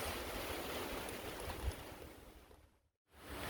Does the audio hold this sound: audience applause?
no